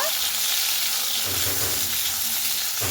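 Eggplant frying in a pan, a dense continuous sizzle with soft stirring scrapes heard up close, no talking.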